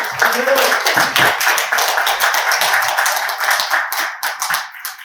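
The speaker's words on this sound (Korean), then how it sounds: "박수로 맞이해 주시기 바랍니다." Sustained applause from a conference audience welcoming a presenter, many hands clapping together in a dense, steady patter that thins out toward the end.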